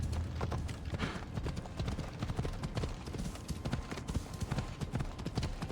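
Rapid, steady clip-clop of horse hooves at a trot in the video game Assassin's Creed Odyssey, close and continuous over a rumbling background.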